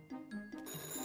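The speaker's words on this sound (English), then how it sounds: "The phone is ringing" A telephone rings in the My Friend Peppa Pig video game, a repeating electronic bell trill in short bursts, clear and close with no talking.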